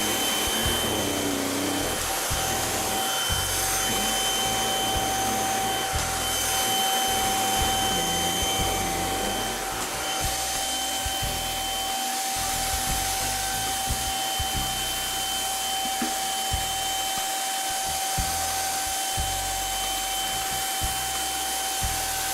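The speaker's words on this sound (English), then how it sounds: "The vacuum has been running pretty much continually." A Greenote GSC50 cordless vacuum cleaner runs continuously with a steady, even motor whine and airy rush, the tone shifting slightly partway through, with no talking.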